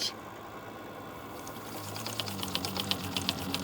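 A 32-inch mini lathe runs unloaded at low speed, giving a steady mechanical drone with a faint rhythmic ticking that grows more regular toward the end.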